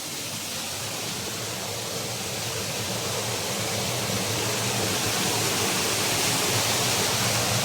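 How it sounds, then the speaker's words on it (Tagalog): Water trickling and spilling down rocks, a continuous dense hiss of flowing water close by, steady and fairly loud throughout. "tumatagas yun doon sa taas, oh"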